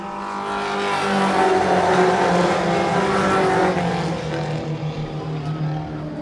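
Two race cars run side by side on an oval track, their engines a loud, continuous, layered roar that swells and then eases slightly as they go past, with no talk heard.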